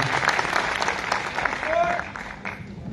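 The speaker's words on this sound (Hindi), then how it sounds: "एक बार जोरदार तालियां उन्होंने श्रोताओं के लिए" Audience applause for a singer, a Voice of Gujarat winner, at a live music show: a dense crowd clapping that continues throughout, with voices mixed in.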